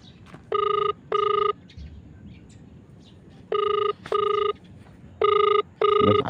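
An outgoing telephone call rings unanswered: three pairs of electronic ring bursts repeat at a steady interval over faint background noise.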